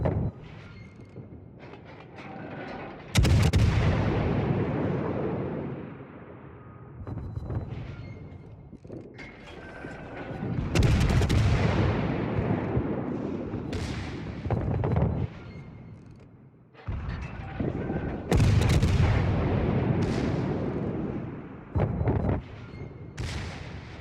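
Warships in the video game World of Warships fire their naval guns in heavy booming salvos, about five loud blasts spaced several seconds apart, each trailing off into a rumbling decay.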